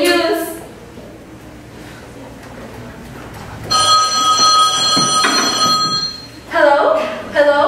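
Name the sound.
telephone bell ringing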